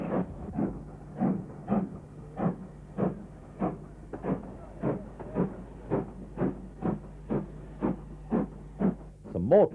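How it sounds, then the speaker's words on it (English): Jubilee class steam locomotive 45682 Trafalgar pulls out of Birmingham New Street, giving a steady series of heavy, rhythmic exhaust chuffs that come close together and evenly spaced over a low background rumble, loud and near. "Jubilee number 45682, Trafalgar, was a regular performer on cross-country trains. It's seen here leaving Birmingham New Street."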